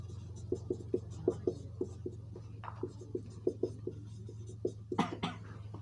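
Chalk or pen writing on a board during a Class 10 science lesson on lenses, a series of short, crisp taps and scratches at an irregular rhythm over a steady low hum, with no talking.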